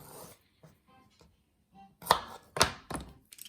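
A knife cuts through a vegetable on a cutting board: a few quiet taps, then three sharp, close chopping thunks against the board near the end.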